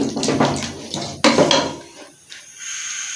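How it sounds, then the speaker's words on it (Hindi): Potatoes mixed into aloo gosht curry in a metal cooking pot: a series of clanking, scraping strokes of a spoon against the pot, one sharp louder clang midway, then quieter stirring, with no talk. "सारे आलू ऐड कर देंगे, इनको अच्छी तरह से बीच में मिक्स कर देंगे।"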